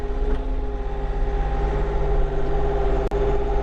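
Kioti DK10SE series HST tractor engine running steadily while driving, a constant low diesel drone with a brief dropout near the end and no talk.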